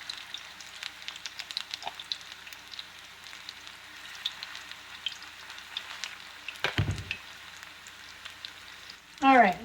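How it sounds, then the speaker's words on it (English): Diced onion patties fry in a pan of oil, a soft, steady sizzle with light crackles running throughout, a louder spatter and a brief clatter near the end, with no talking. "you let them cook until they're golden on the bottom"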